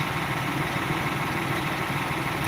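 A tractor engine runs steadily at a constant idle, a continuous close rumble with no breaks and no voices over it.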